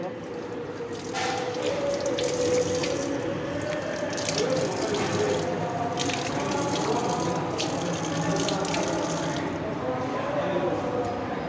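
Water runs steadily from a tap for hand washing at a row of tanks, a continuous gushing splash with irregular bursts, while people talk nearby.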